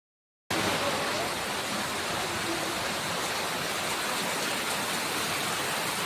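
Floodwater in a village flows as a steady, loud rushing wash. It starts abruptly after a short silence and holds without a break, with faint voices underneath.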